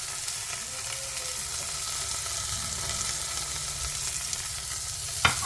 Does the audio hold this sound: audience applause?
no